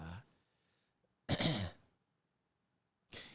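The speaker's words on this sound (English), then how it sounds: "See, you're clearing your throat." A person clears their throat with a rough, gravelly rasp, preceded and followed by brief breathy noises, close up.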